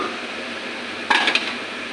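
A cooked cabbage, potato and tomato vegetarian dish is served into a bowl, heard as a brief pair of sharp metallic clinks of a spoon against the dish over faint kitchen background hiss.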